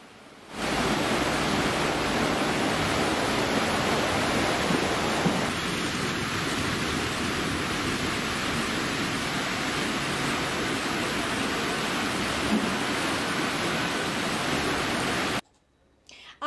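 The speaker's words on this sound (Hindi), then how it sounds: "आप देख सकते हैं किस तरीके से ये पानी, महानंदा नदी का पानी जो कि है कितनी ऊंचाइयों तक जा रहा है" Floodwater of the swollen Mahananda river rises toward houses with a powerful, constant roaring rush that holds steady for about fifteen seconds before cutting off abruptly.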